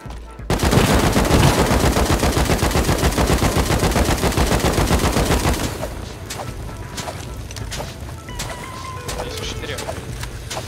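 Rapid automatic gunfire firing incendiary rounds in the video game Rust, a loud, steady stream of shots lasting several seconds before cutting off, followed by quieter scattered game sounds and talk.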